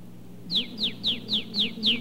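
Whistled imitation of a red-winged blackbird call on an old-time radio program from the late 1930s: six evenly spaced, sharp descending chirps, clear and fairly loud over a faint low hum.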